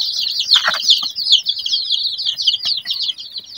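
A flock of upgraded native chicks at their water peeps constantly and shrilly close by, with overlapping high chirps and a few soft scuffles.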